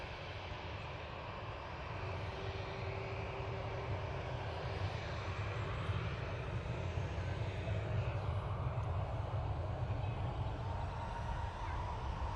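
An airliner departing Manchester Airport for Venice, its engines a steady, broad roar held at an even level throughout, with no talk over it.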